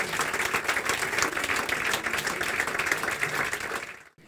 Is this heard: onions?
no